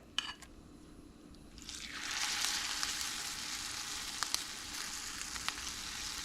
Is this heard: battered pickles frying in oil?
yes